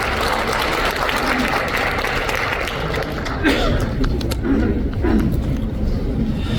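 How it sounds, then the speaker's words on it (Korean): Audience at a commemorative talk concert applauding to welcome the host, steady loud clapping throughout with voices and cheers mixed in. "여러분 큰 박수로 환영해 주십시오"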